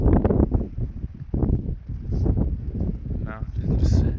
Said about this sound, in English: It's quite windy up here.